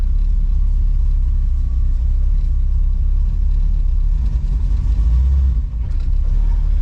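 Turbocharged 1983 Chrysler Cordoba engine running steadily up close, a loud continuous low rumble that holds even throughout with a couple of brief dips near the end.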